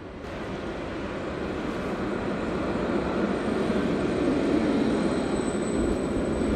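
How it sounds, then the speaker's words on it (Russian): Jerusalem tram pulling into a stop outdoors, a moderate steady rolling rumble that builds gradually, with a faint high electric whine above it and no talk. "А вот и трамвайчик."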